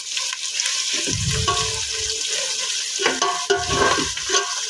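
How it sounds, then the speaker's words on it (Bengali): Loud, steady sizzling of onions frying in a wok for biryani, with bursts of scraping and stirring from a utensil against the metal. "কড়াইয়ের শব্দের জন্য আমার বয়েসটাই ঠিকভাবে শোনা যাচ্ছে না"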